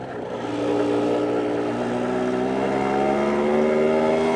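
A 2013 Derby DRD Extreme 50cc moped ridden, its small engine droning with rising whiny harmonics as it accelerates steadily, loud and close, no talking.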